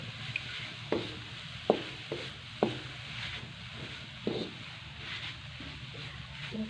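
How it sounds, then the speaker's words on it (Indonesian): A pan of pumpkin filling for Acehnese timpan being stirred over the stove, with soft sizzling and a handful of scraping, knocking stirs spaced irregularly, close and moderately quiet. "Kita aduk lagi ya,"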